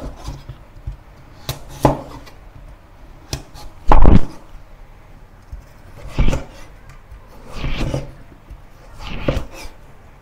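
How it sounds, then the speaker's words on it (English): A kitchen knife cuts pumpkin into rectangular pieces on a board, making a series of separate thuds and scraping strokes at irregular intervals, close by and alone. "And then cut the pumpkin into rectangle pieces."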